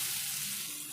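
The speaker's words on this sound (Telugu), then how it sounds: "ఈ పప్పు కొద్దిసేపు ఈ నూనెలో ఇట్లా మంచిగా గోలాలి" Moong dal sizzling in hot oil in a pan, a steady close crackle and hiss that holds evenly for about a second, with no voices.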